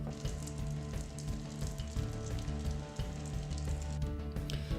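Pecans, butter and brown sugar sizzle in a pan over medium-high heat, a steady crackling fry with small popping bursts, heard close and alone without any talking.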